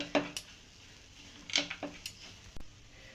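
A spoon clinks and taps against a pan while semolina halwa (suji halwa) is stirred, giving a few sharp metallic knocks spaced irregularly over a quiet background.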